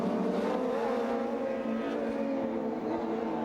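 An Alfa Romeo touring car races in the 2007 World Touring Car Championship, its engine giving a sustained, strained high-revving drone heard from the trackside broadcast without commentary during this stretch.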